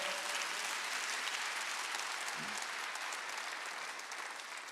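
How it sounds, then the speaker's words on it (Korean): A church congregation claps hard during a Thanksgiving Sunday service, a full, dense burst of applause from many people that stays loud and steady before easing slightly toward the end. "박수 좀 세게 쳐봐요."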